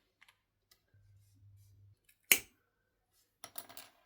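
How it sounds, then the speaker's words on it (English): Wire cutters snip the excess off wooden sticks on a crochet scarecrow figure, a single sharp, loud clip that stands out from quiet handling noises and a few soft clicks. "So I'm going to just trim my sticks at this point."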